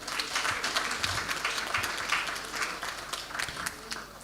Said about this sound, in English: I think President Bio deserves a round of applause.